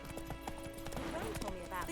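Horse hooves clip-clop steadily through The Witcher 3, a regular trotting rhythm carried along beneath game music with a voice talking over it.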